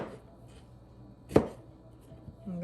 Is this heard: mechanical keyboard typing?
no